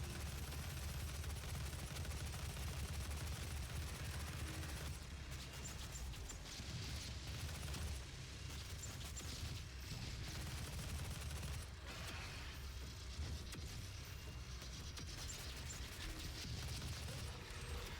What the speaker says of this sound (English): That frickin' dreidel attack is aggravating me.